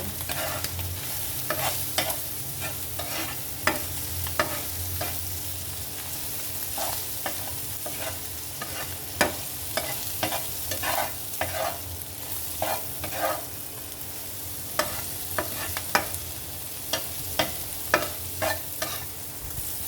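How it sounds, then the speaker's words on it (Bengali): Small shrimp frying in oil with salt in a pan, a steady close sizzle broken by frequent sharp scrapes and clinks of a spatula stirring, no voices. "চিংড়ি মাছটা মশমশা করে ভেজে দেবো"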